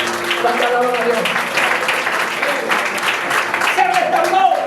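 A church congregation applauds during a sermon, with dense clapping and crowd noise filling the room and voices mixed in, loud and close.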